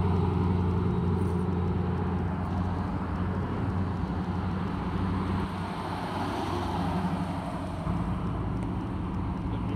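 A turbocharged car at a drag race in Nederland rumbles as a sustained, distant engine roar with broad wind-like noise, a steady drone without distinct revs and no talk.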